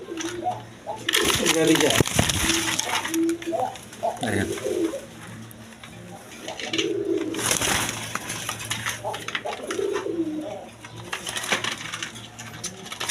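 Healthy pigeons kept for sale coo in repeated low, throaty phrases close by, mixed with rustling and clattering, while someone talks over them at length.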